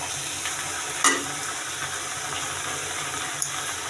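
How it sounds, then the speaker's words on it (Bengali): Water spinach (kolmi shak) frying with Bombay chili in an open pan, giving a steady, soft sizzle with a couple of sharp clinks of a utensil against the pan. "আমি শাকটাকে আর ঢাকবো না, আমি এইভাবেই ভাজি করব।"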